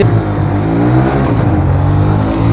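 Two 110cc commuter motorcycles, a Bajaj CT 110X and a TVS Victor 110, accelerating hard off the line at the start of a race, with a loud, steady engine drone and rising harmonic tones throughout, no talk.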